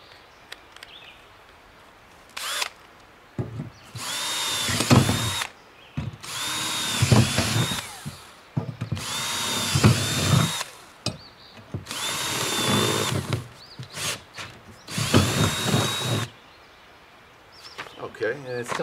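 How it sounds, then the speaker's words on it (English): A power drill whirs in repeated bursts of a few seconds each, pitch rising as it bites, with short pauses between holes and faint background noise. "hook it up to my drill, and drill my new holes"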